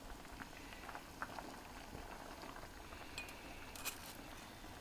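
A pot of coconut milk soup for bonito fish bubbles at a steady boil, with a dense crackle of small pops and occasional light clinks, close and fairly quiet, without talking.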